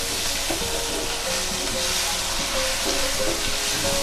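Steady, loud sizzling of mango pulp frying in a hot pan, a continuous crackle with no voices.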